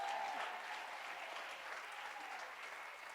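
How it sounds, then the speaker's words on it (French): Church congregation applauding together, a steady dense clapping sustained throughout at moderate level, with faint voices mixed underneath. "est-ce qu'on peut applaudir le Seigneur"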